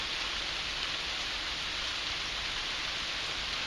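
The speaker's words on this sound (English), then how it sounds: "now we're stuck under a particularly heavy shower just into Hereford itself." Heavy rain shower pouring down outdoors in Hereford, a dense, steady broadband hiss of raindrops with no letup, fairly close and continuous throughout, with no voices.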